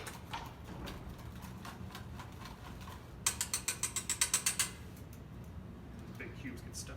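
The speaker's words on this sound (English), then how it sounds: "I'm using the whisk kind of as a masher to break up some of the little clusters of the feta cheese" A whisk mashes feta cheese into a dressing, making a quick run of about ten sharp, rhythmic clicks against the bowl that follows quieter, scattered taps.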